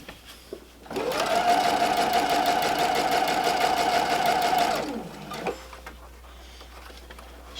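Sewing machine running a straight stitch along the hem of a black and white shawl, a steady fast mechanical whirr with rapid needle chatter lasting about four seconds, starting and stopping cleanly amid quiet surroundings.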